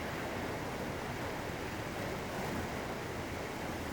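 Ocean surf breaks along the Pacific coast of North America, a steady, dense, wash of roaring noise with no distinct individual waves, heard alone and fairly soft.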